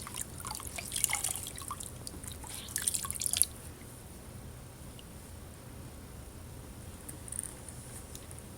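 Water rinses off a washed foot, heard as faint dripping and light splashes in the first few seconds and then a soft, steady low trickle behind a quiet background.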